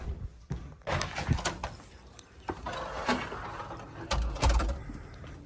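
A house door is opened and then shut while someone leaves home, giving a few sharp thunks and a slam among softer handling noises. Faint bird calls sound from outside.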